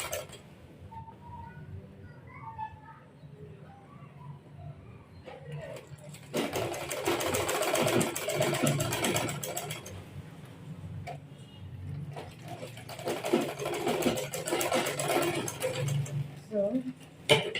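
A sewing machine stitches the cups of a corset blouse together, running in two long steady bursts of rapid ticking after a quieter stretch, with faint background sounds between.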